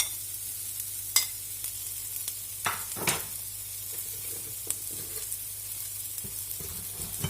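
Garlic frying in a home cooking pan alongside onion, a faint steady sizzle with a few soft clicks and scrapes from stirring, quiet and without talk.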